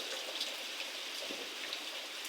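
Heavy evening rain pours on a farm among maize crops, a faint, even wash of hiss with scattered drop ticks and no voices.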